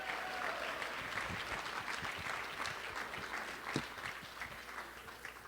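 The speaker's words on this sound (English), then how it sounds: "give Joe Biden a round of applause" Applause for President Joe Biden from attendees at a Pennsylvania delegation breakfast meeting, a steady, moderately loud roll of clapping with individual claps popping out close by.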